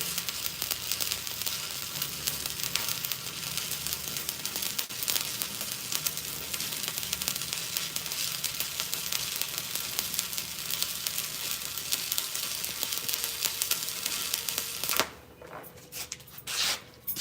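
Steady, crackling welding-arc sizzle like frying bacon runs continuously, then cuts out near the end, leaving a few scattered clicks.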